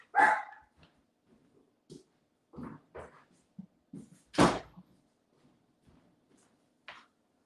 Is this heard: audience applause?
no